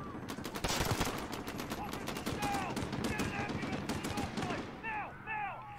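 Rapid gunfire rattles through a Call of Duty: Modern Warfare campaign battle, dense bursts of shots packed close together under game sounds, with a voice cutting in near the end.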